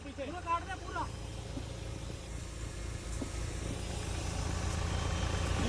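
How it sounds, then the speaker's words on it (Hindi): A car engine runs steadily while the vehicle is slowly reversed and steered at a campsite, a low continuous rumble throughout with voices talking over it early on. "थोड़ा गाड़ी का रिवर्स देना आराम से।"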